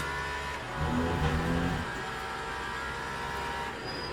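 A hypercar in the racing game Le Mans Ultimate drones steadily, its engine swelling louder for a moment before settling back to an even hum with a faint high whine.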